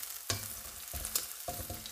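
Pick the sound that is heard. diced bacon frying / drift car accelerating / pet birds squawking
diced bacon frying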